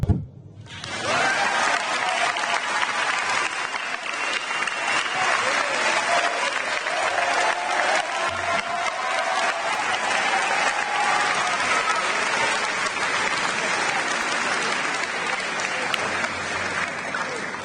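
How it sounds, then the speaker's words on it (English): Sustained audience applause fills a high school graduation ceremony in Chester, loud and dense from start to finish after a brief quiet opening. "Please clap."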